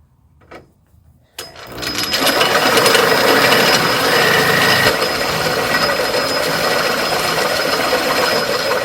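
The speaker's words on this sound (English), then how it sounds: "The other thing about a step drill is you can only go so deep through the metal" A step drill bores through metal, starting after a brief quiet moment and then running as a loud, steady grinding whine with a sustained buzzing drone that holds constant to the end.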